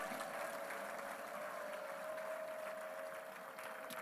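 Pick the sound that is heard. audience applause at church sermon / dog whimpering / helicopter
audience applause at church sermon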